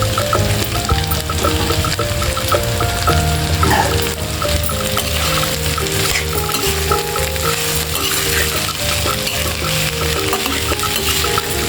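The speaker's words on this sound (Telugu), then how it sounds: "ముక్కలు మాడిపోకుండా ఇలా కలుపుకుంటూ ఫ్రై చేసుకోవాలి." Ladies finger pieces fry loudly in a pan, a steady dense sizzle under repeated stirring strokes and faint clinks, close and continuous throughout with no talking.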